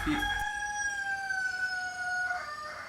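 Rooster crowing: one long, drawn-out cock-a-doodle-doo held for over two seconds, clear and fairly close, with a brief squawk near the start and faint background noise.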